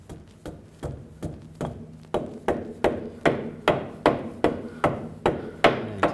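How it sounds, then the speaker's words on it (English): A rubber mallet strikes the rear differential pinion flange of a 2000-08 GMC Yukon in a steady series of about a dozen solid, evenly spaced taps, close and fairly loud, with no one speaking. "And just take a rubber mallet, give it a couple taps."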